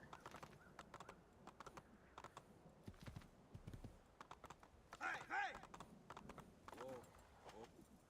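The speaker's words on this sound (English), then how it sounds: "old video game horses." In Assassin's Creed II, a game horse gallops with a quiet, steady clip-clop of hooves that runs throughout, with a brief voice breaking in partway.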